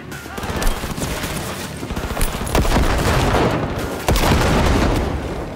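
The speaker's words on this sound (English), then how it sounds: "All right, grenades, clearing out the rooms." Gunfire and grenade blasts fill a Cyberpunk 2077 firefight, with dense, continuous shooting and several heavy booms rising above the din, loud and close throughout.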